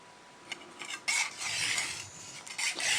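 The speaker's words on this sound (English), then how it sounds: "It just slides into the sharpening stone at a low angle, not much pressure." A knife blade slides across a sharpening stone at a low angle with light pressure, making soft, uneven rasping strokes that swell and fade in short bursts, close and fairly quiet, with no talking.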